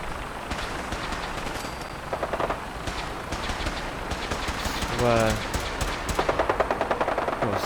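Gunfire in the Fallout 4 video game, repeated bursts of rapid shots and scattered single reports crackling through a busy battle mix, with voices talking throughout.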